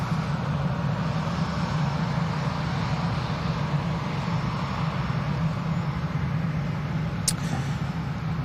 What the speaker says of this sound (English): The Logan Air we saw being pushed back has taken an intersection onto 23 right.